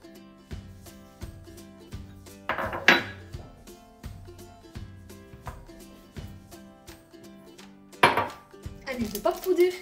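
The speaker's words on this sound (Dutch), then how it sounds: "En dan natuurlijk roeren." Pancake batter ingredients stirred in a pot, a spoon knocking and scraping against the sides in a steady rhythm of clinks, with louder metallic clatters partway through and near the end.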